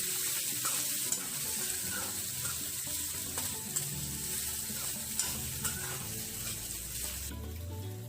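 Cooked rice being stirred into a hot frying pan for lemon rice: steady oil sizzle under repeated scraping and tossing strokes of a spoon, close and fairly loud, with no talking.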